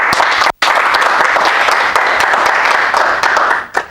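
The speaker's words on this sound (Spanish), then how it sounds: "Un aplaudiment." Audience applause at a talk in Barcelona, loud, close and continuous clapping from a small crowd, broken by a brief cut near the start.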